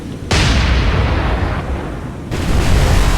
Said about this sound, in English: Go ahead and get the Pensacola here, targeting the Hatsuharu, and fire.